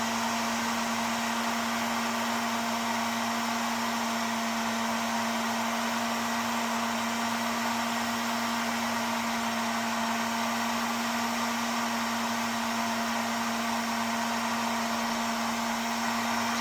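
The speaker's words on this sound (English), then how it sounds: "I got the heat gun set on 350 degrees. This is the digital one." A digital heat gun set to 350 degrees blows hot air onto a heat shrink wire connector, giving a loud, steady, close whirring roar with a constant tonal hum that runs unbroken throughout.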